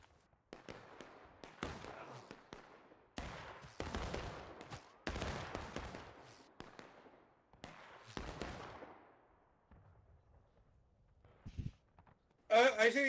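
Musket and rifle volleys crack in War of Rights, clustered bursts of near and distant shots separated by short pauses, with voices shouting between them.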